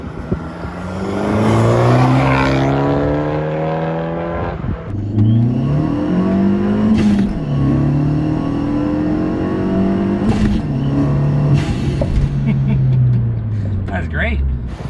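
Loud, close engine of a used car revving hard while being driven, with rising and falling harmonic sweeps through repeated gear changes and the intake roaring just beneath the windshield; people talk over it.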